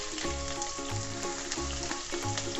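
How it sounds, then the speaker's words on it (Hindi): Finely chopped onions sautéing in half a cup of cooking oil in a kadai, a continuous close, even sizzle with faint rhythmic thumps beneath. "प्याज को हमने कोई सा भी कलर नहीं देना, बिल्कुल भी लाइट सा हमने इसको सॉटे करना है"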